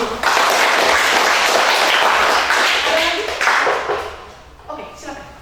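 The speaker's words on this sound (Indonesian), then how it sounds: "Mari kita tepuk tangan dulu." Classroom audience clapping together in a dense, steady burst that fades after about four seconds, with some voices and scattered last claps at the end.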